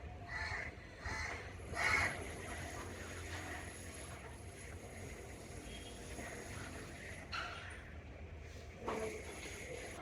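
Crows call from near a terrace garden, giving a few scattered caws at moderate distance over a steady low background rumble.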